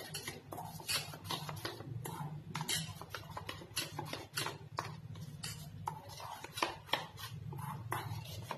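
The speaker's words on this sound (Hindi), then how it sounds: "इलायची पाउडर इस तरह से हमें इससे अच्छे से मिक्स करना है" A spoon scrapes and taps steadily in a bowl as cardamom powder is mixed into moong dal chilla batter, giving a close run of soft clinks and swishes with no voices.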